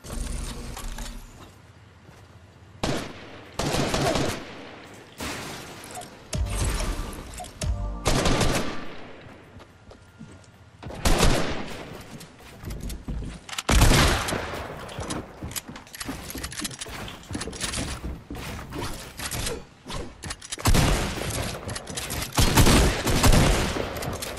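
Pistol fire in Fortnite, rapid bursts of shots in irregular clusters with brief gaps between volleys, loud and close, plus some mechanical clicking.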